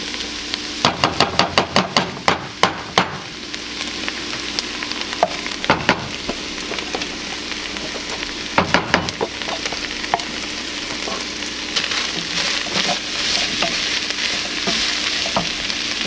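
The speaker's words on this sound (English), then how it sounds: "And now we're gonna add our red kidney beans" A can of red kidney beans goes into a pan of frying onions, a few sharp clacks and knocks followed by a steady close sizzle with occasional scraping.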